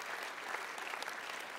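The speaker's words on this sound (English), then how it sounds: "Let's give Josh and Danielle Daggett a round of applause" Steady, quiet applause from a church congregation during an incorporation service, continuous and dense for the whole brief stretch, with faint crowd murmur underneath.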